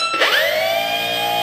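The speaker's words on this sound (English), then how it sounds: "You guys hear that beep?" A tone from the radio setup of an FMS Kingfisher 1.4 m RC model aircraft starts abruptly, sweeps upward in pitch and then holds as a steady, loud electronic beep.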